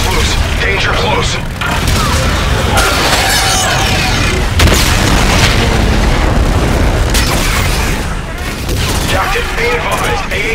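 A loud, continuous barrage of explosions and weapon fire from Jackal fighters in Call of Duty: Infinite Warfare, with deep booms over a dense roar of combat and voices faintly mixed in.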